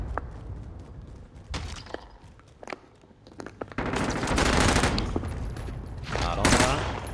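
Submachine gun fire in Call of Duty: Modern Warfare, with scattered single shots, then long rapid automatic bursts, loud and close among other game effects.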